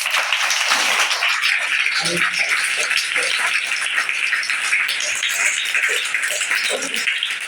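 Children clap together for a teacher at a gurukul, a loud, dense patter of many small hands sustained throughout, with a few faint voices briefly showing through.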